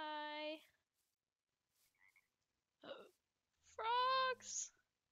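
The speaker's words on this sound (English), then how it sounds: "Frogs!" Frogs croak in a zoo-building game, a few short separate croaks with silent gaps between them. The last croaks are loudest and closest.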